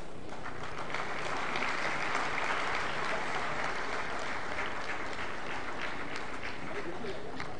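Steady audience applause fills a hall at a national energy conservation awards ceremony as school prize winners are called up, a dense, even roar of clapping throughout with a faint murmur of voices underneath.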